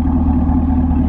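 A sixth-generation Chevrolet Camaro with a Borla Atak exhaust idles with a steady, deep, moderately loud burble, close and unbroken over a short stretch.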